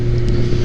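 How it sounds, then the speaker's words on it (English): A dirt bike or motorcycle engine runs loud and close, holding a steady drone with a slight rise as the rider downshifts and revs while letting out the clutch. "So I'm going to downshift, rev up a little bit as I'm letting out the clutch."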